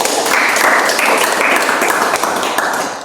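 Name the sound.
applause for Anissa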